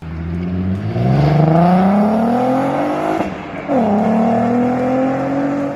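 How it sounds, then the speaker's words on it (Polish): A sports car engine revs hard, pitch climbing as it accelerates, briefly drops at a gear change, then pulls up again, loud and close. "dźwięk tego wspaniałego silnika na pewno Was zachwyci"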